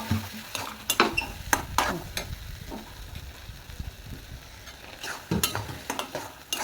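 Mixed dal frying in a pan while being stirred: scraping and clinking spoon strokes in irregular bursts over a low, quiet sizzle, close up with no talking.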